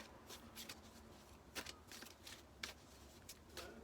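Tarot cards are shuffled by hand in a quiet room, a series of soft crisp riffles and flicks repeating irregularly every half second or so, close but faint.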